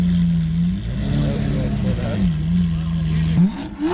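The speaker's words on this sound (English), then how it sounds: "that's probably the best sounding V12 I have heard" A Lamborghini Aventador with a V12 engine and body kit revving at a Dallas cars and coffee meet, a loud close roar that rises and falls through several throttle blips over outdoor crowd noise.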